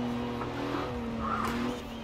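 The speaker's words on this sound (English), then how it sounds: "I'm starting to kind of get a feel for how this thing slides on the dirt now" A 1950s Plymouth Fury slides across dirt in Forza Horizon 4, its engine holding a steady droning note while tyres scrub and squeal briefly through the drift, fairly close and continuous.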